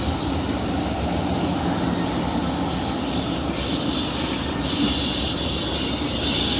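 An Amtrak Borealis passenger train, running with locomotives at both ends, arrives past Pigs Eye yard into Saint Paul Union Depot. It makes a steady, loud rumbling roar with a constant hiss throughout and no voices.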